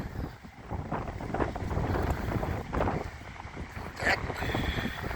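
Strong wind buffets the microphone during a walk through downtown Burlington, Wisconsin, a steady loud rumble with gusting surges throughout, no talking.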